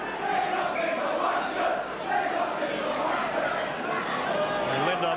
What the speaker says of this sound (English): getting a bit of a workout now from the crowd there in unison chanting, Lindop is a wonder